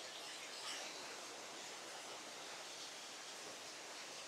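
A steady broadband rush of falling water from a forest waterfall at Marudumalli in Andhra Pradesh, continuous and even throughout with no voices.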